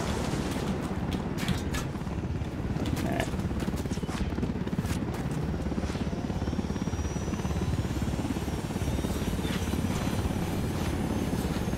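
In the video game Halo, a helicopter-type aircraft drones with a steady rotor-like thrum throughout, overlaid with scattered sharp gunfire cracks and bursts of combat noise.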